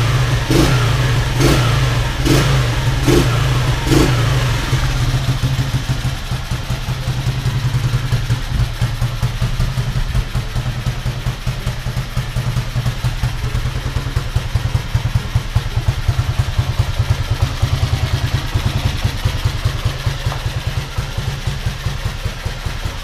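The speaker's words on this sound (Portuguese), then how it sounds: "o que vocês acharam do barulho da moto" A Honda Titan KS 125 motorcycle engine with its air filter removed revs hard several times with sharp, raw bursts, then settles into a loud, rough, popping idle that runs on steadily.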